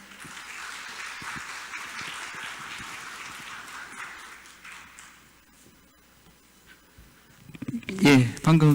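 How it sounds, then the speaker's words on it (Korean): Audience applause welcoming a speaker at a technology academy lecture, a soft, even wash of clapping that fades out after about five seconds before a voice begins speaking. "큰 박수로 환영해 주시기 바랍니다."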